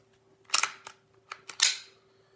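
Crisp, sharp clicks from an Umarex Glock 17 Gen 5 trigger reset come in two quick pairs, close and clear against a quiet background.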